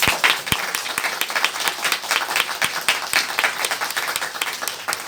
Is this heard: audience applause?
yes